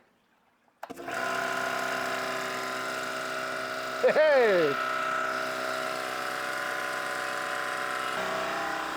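A new air compressor starts abruptly and runs with a steady loud mechanical hum and whine while building pressure, continuing without pause; a voice briefly shouts partway through.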